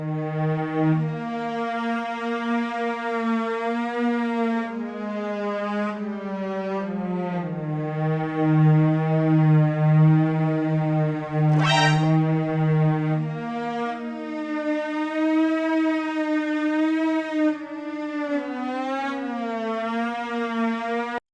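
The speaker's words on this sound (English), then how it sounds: "It adds that old school detuned effect, but the unique thing is you can control the speed." A cello played through a lo-fi Pitch Drift detune plugin holds long, sustained notes whose pitch wavers and drifts slowly, giving a warbling old-school sound, loud and alone throughout.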